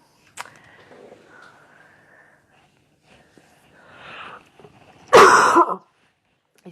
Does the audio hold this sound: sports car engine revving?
no